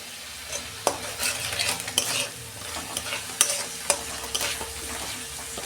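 Spice masala with chilli powder and Kashmiri chilli frying in a pan for a soybean dish, a low sizzle under constant scraping strokes and spoon clinks on metal, close and without talk.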